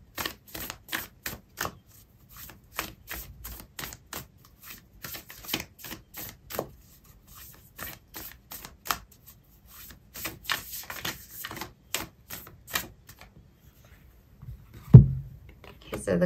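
Oracle cards are shuffled and one is pulled, heard as rapid, close, papery riffling and flicking in repeated bursts, ending with a soft thump.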